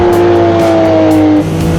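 A Porsche Group C race car engine screams at high revs, a loud, harsh tone that holds and then drops as the car downshifts, heard alone.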